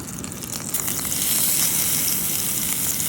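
Meat sizzling over a wilderness campfire alongside vegetables, Yorkshire puddings and stuffing for a Christmas survival dinner: a loud, steady hiss and crackle of frying fat, continuous and close, with no voices.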